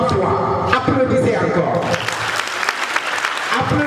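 An audience at an alumni experience-sharing event at ISEP claps steadily, a dense wash of applause that swells after the first couple of seconds and keeps going under a voice.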